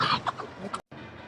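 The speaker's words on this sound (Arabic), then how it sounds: "بص ده ديك براهمه" A Brahma rooster at a crowded Egyptian market gives a few short, close clucks and throaty calls in quick succession, with a brief cutout near the end.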